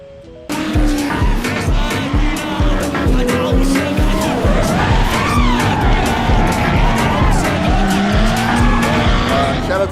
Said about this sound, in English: Shout out to Drift HQ for hosting 4th of July Drift here at Atlanta Motorsports Park.